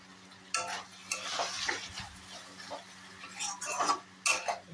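Prawns sautéing in a pan, with a spatula scraping and stirring in short irregular bursts over a faint low hum and light sizzle, fairly close and moderately loud.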